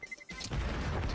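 An explosion in the Counter-Strike 2 video game: a sudden loud, broad blast that bursts in after a brief quieter moment and keeps rumbling and crackling to the end, close and full.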